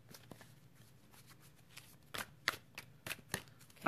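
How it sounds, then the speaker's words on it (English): Large tarot cards are shuffled by hand in a quiet room, giving a series of soft riffling clicks and sharper slaps in irregular bursts, close and faint, with no talking. "These cards are difficult for me to shuffle because they're big"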